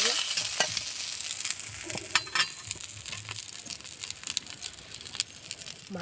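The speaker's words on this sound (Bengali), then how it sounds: "মুড়োটা সুন্দর করে ভাজা হয়ে গেছে" A katla fish head fries in oil in a pan, giving a continuous close crackling sizzle with occasional louder pops and scraping as it is turned.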